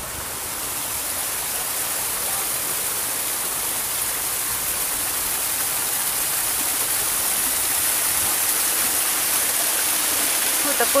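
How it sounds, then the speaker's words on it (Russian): Small waterfall on a river in a town centre, a loud, steady broadband rush of falling water heard up close and unbroken throughout. "Вот такой водопадик."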